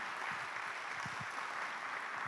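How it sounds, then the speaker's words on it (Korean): A church congregation applauding a visiting senior Baptist missionary, a soft, diffuse wash of clapping that is steady and moderately distant, with a few sharper individual claps standing out and no speech. "우리 잠깐 일어서시면 뜨거운 박수로 환영하겠습니다."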